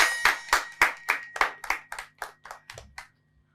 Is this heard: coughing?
no